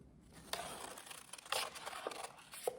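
Scissors snipping paper butterfly wings at a craft table, a few soft, separate cuts with faint rustling of the paper between them, quiet and close.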